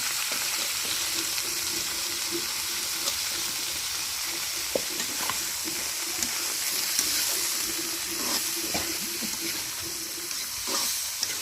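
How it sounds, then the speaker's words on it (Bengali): Bitter gourd fries in soybean oil over a village cooking fire at night. A dense, continuous sizzle and hiss fills the whole stretch, broken only now and then by faint stirring taps. "এই যে তেলানি হয়ে গেছে তো করলা ভাজি তেলানি দেওয়া হচ্ছে"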